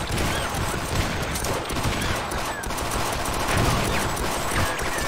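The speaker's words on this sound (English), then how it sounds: "How did that explosion hurt me?" Explosions and gunfire in the co-op shooter Sven Co-op during a zombie horde match: dense, continuous loud bursts and rattling fire throughout, with no clear pauses.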